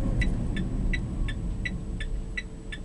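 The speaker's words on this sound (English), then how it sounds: "That whirring you can hear is the cooling system, just keeping the batteries at an optimum operating temperature" The battery cooling system of a stopped Mitsubishi i-MiEV electric car gives a faint, steady whir under a low hum, with a soft high ticking pulse repeating at an even beat.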